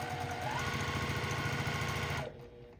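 A sewing machine runs steadily while stitching quilt block pieces for an Ohio Star patchwork, a fast, even mechanical whir up close that cuts off abruptly near the end.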